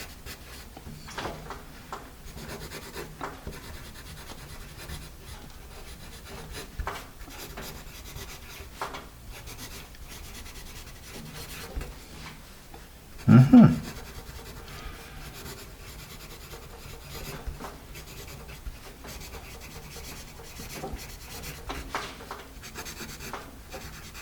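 Pencil scratching across paper with a pre-sharpened Monoprix HB wooden pencil, close up and quiet, with soft continuous rubbing strokes and one louder bump partway through.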